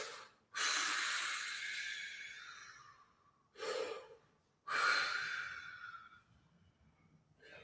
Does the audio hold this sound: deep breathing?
yes